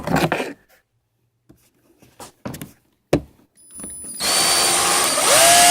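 Power drill with a double-ended 1/8 bit boring through metal during a bumper repair, a steady loud whine building after a few short taps and bumps, continuing to the end.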